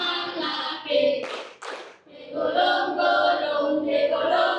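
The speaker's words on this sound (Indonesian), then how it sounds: "Buka tutup, buka tutup, bertepuk tangan." Two quick hand claps land in a children's clapping song, sharp and close, set between stretches of sung melody.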